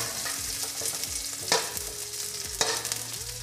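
Garlic sizzling steadily in hot oil for Kapampangan-style menudo, with a spoon stirring and scraping the pan and a couple of louder knocks against the pan, close and continuous.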